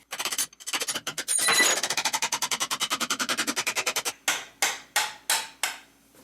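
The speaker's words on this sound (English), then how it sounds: "I'm going to knock the existing spindle through with the new spindle" Rapid metallic hammer blows ring out in a fast steady run, then slow to a handful of heavier, spaced strikes, close and loud with no talking.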